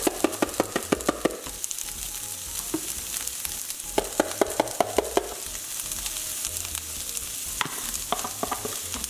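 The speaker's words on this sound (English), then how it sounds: "now we're going to add the corn and the garlic and then cook it for about 2 minutes" Corn and garlic fry with pasta in a pan, crackling steadily up close while a utensil stirs and scrapes in quick bursts of clatter.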